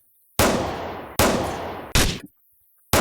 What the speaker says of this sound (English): The pistol shot 1 L for left, pistol shot 1 R for right.